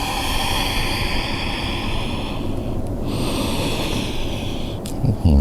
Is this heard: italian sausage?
no